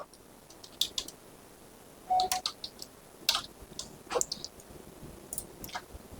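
Keys on a computer keyboard click in short, irregular bursts as code is typed, soft and close, with brief pauses between clusters of taps.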